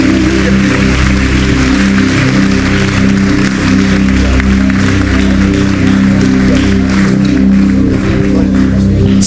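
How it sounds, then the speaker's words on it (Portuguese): A church congregation applauding during a loud worship service, sustained clapping buried in a dense wash of amplified music and crowd noise at constant high volume. "A igreja dá uma salva de palmas para Jesus."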